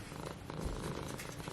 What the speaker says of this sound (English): How are you purring?